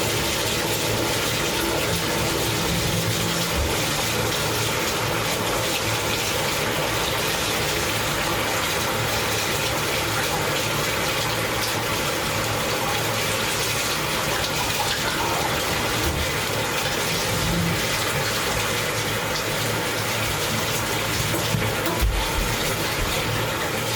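Water drains steadily out of a tub of freshly dyed clothes, a loud and unbroken rushing gush that holds at the same level throughout, with no voices.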